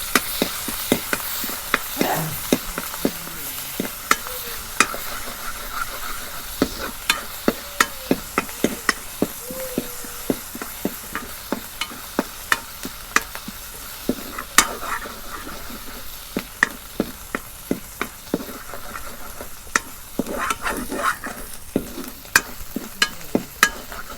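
Onion paste frying in a pan during village-style cooking, with a continuous loud sizzle and many sharp, irregular clacks of a spatula against the pan.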